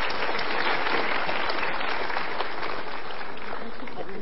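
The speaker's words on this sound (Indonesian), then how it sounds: "Kita berikan tepuk tangan." Studio audience applause on a Golden Ways talk show, a thick, continuous roar of clapping that stays loud and steady throughout, with possible voices mixed faintly underneath.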